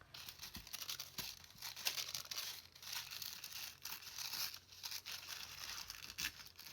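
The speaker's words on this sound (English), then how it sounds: "I will just tear the edges off here" Paper scraps are torn by hand along their edges in a series of close, crisp ripping and crinkling strokes that come in irregular bursts, fairly quiet, with no voice.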